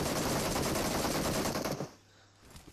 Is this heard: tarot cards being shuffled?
no